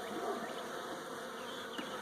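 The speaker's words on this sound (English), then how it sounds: "these are really gentle bees, desperate bees" Gentle honeybees from a small colony buzz steadily around an open hive, a continuous close droning hum with no talk.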